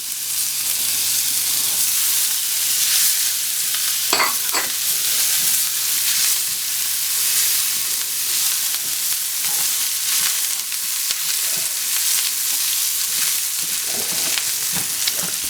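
Minced shallot and a clove of garlic sizzle steadily in a pan over medium heat, a loud, continuous hiss of frying broken by occasional stirring scrapes.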